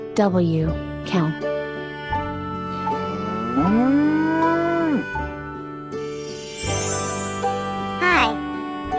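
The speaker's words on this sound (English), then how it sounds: "C-O-W, cow." A cow gives a long, deep moo that rises and holds for about a second, loud and near, set among music and a voice in a farm animal song.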